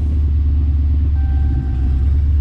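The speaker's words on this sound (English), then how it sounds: "the car starts and it's running" A Chrysler 300 SRT with a swapped-in 392 engine idles steadily, a loud, continuous low rumble close by with no change in pace.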